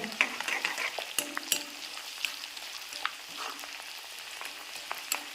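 Mango pickle fries in sesame oil with green chillies in a small pan, a soft steady sizzle broken by light scraping and stirring taps, close and fairly quiet.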